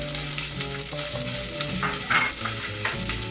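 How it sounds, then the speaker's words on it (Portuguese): Onions sizzle in hot olive oil in a pan, a loud, continuous crackling fry up close with a few stirring scrapes and no talk. "Agora, vamos colocar as cebolas."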